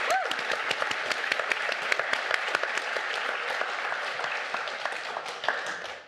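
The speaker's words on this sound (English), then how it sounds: "huge round of applause for these guys for going through that" An audience at a panel on AI and open-source building gives a dense, sustained round of applause that stays steady for about six seconds.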